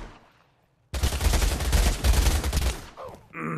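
Sniper rifle fire in the first-person shooter Pavlov: a loud, dense burst of shooting starts abruptly after a quiet second and rolls on for about two seconds, followed by fainter tail sounds.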